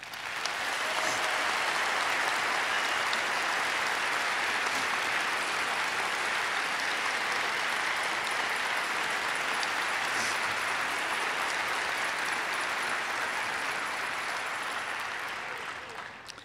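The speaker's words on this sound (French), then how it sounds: "j'invite toute l'assistance à vous applaudir" A university audience at a UQAM education-faculty graduation ceremony applauds the graduates, sustained dense clapping that holds steady and loud for about sixteen seconds before tapering off at the end.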